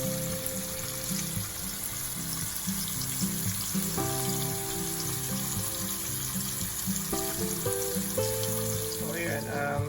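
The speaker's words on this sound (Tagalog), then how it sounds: "habang nag-fry tayo ng hamburger" Steady sizzling of a hamburger patty frying in a pan, with faint clinks and a brief tonal hum partway through.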